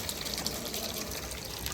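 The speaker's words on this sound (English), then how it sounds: "Let some of that water run out." Water runs steadily from a line on a pressurized EcoWater softener in a shop, making a continuous close rushing, gushing sound with no speech.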